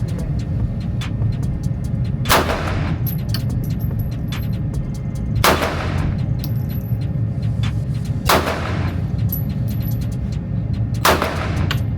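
Four loud gunshots ring out at an outdoor shooting range, evenly spaced about three seconds apart, each a sharp close crack with a brief echoing tail over a constant low background hum.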